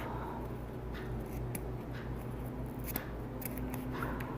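Several quiet snips and crunching cuts of dull scissors trimming a ribbon end come in an uneven series, close by, over a faint background hum.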